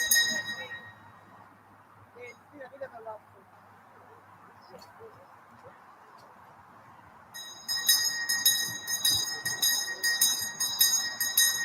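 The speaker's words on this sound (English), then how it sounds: "Bell for the fourth sprint." A bell signals a sprint lap in a fixed-gear criterium bike race. It starts partway through with loud, rapid ringing over crowd noise, after a stretch of quieter ambient sound.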